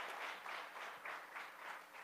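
A church congregation applauds in steady, rhythmic waves of clapping, moderately distant and quiet, with no clear speech over it.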